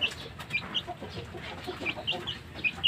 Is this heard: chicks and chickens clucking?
yes